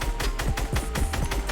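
Gunfire in a first-person shooter video game, a rapid series of sharp evenly spaced shots, about eight cracks in under two seconds, loud and close with no talk over them.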